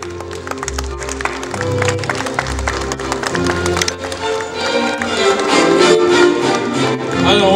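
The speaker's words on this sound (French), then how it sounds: "On applaudit bien fort." Applause rises at a seniors' fashion show of period costumes, clapping building over loud music with a thumping beat, the claps growing denser toward the end.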